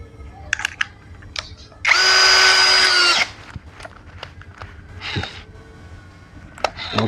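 A Tankmor cordless drill set to torque 20 and speed 1 whirs in one loud burst of a little over a second, amid scattered clicks and handling knocks before and after.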